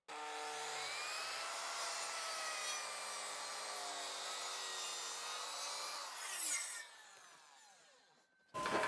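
A hand saw cuts wood for stairs, making a steady, quiet rasping with a squeaky ringing tone that fades before the strokes stop near the end.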